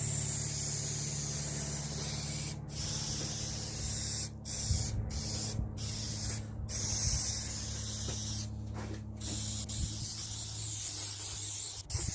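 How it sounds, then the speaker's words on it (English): Steady spray adhesive hissing onto the back of car headliner foam, a continuous loud spray with several brief pauses between bursts. "spraying on the back of the foam as well, lightly, just to give it a bit of adhesion"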